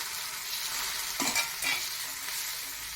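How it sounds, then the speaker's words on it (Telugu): Garlic cloves, cumin seeds and curry leaves frying in hot oil, a continuous crackling sizzle broken by a couple of louder stirring bursts in the pan, close by and with no voices. "ఐదారు వెల్లుల్లి రెబ్బలు ఒక అర స్పూన్ జీలకర్ర కొంచెం అంత కరివేపాకు కూడా వేసుకుని చక్కగా ఫ్రై చేసుకోవాలి"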